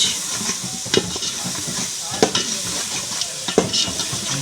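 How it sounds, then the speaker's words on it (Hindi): A spoon stirs korma masala in a cooking pot amid steady sizzling, with repeated scraping knocks against the metal at irregular intervals, close and clear. "ये जी देखें, अब इसको मारेंगे चम्मच"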